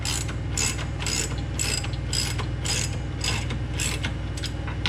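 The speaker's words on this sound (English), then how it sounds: "We've elected the manual labor version of the ratchet as opposed to the air ratchet" Rapid clicking bursts of a hand ratchet tightening sway bar bolts on a 2017 Dodge Challenger R/T during an Eibach front sway bar install, repeating in a steady rhythm of about eight strokes, close and loud over a low background hum.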